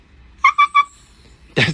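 A dog makes three short, high, tonal yelps or whines in quick succession instead of barking, followed by a brief burst of noise; close and fairly loud with silence between.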